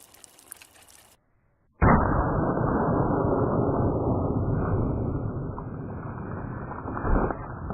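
A Glock 30 with a short barrel fires a single Speer Gold Dot 230 grain hollowpoint into water jugs: one sudden loud burst, then several seconds of continuous rushing, splashing noise.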